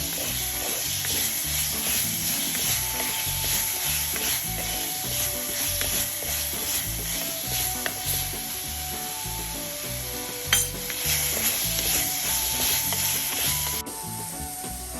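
Crushed ingredients fry in a pan for Tellicherry-style fish molee, a steady hissing sizzle under rhythmic, repeated stirring scrapes of a spoon, close and continuous with one brief sharper clack.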